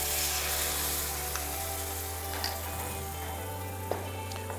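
Vegetables sautéing in a pan after cream is added, giving a steady, dense sizzle with a few faint clinks of stirring and a constant low hum beneath.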